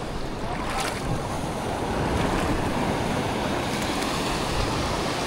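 Beach surf rolls in with a continuous broad wash of breaking ocean waves, buffeted by wind noise on the microphone, loud and close with no voices.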